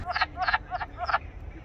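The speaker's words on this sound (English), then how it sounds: "This little guy is a wood frog. You can actually hear him in the background" Wood frog calling beside a forest vernal pool: four short, raspy clucking croaks in a quick uneven series, moderately close and clear above a low background hum.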